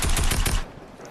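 Rapid automatic gunfire in a video game, a loud burst of quick repeated shots lasting about half a second and then stopping abruptly.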